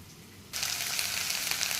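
Moringa leaves (saag) go into a hot pan over chilli and other fried seasonings, and a quiet hiss suddenly swells into a loud, steady close-up sizzle that keeps going with no voices.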